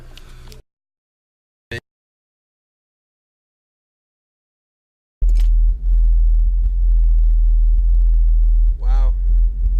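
Alpine car subwoofers playing bass: after near silence and a brief click, a heavy, loud low-frequency bass drone swells in and holds steady, with a short sweeping tone near the end.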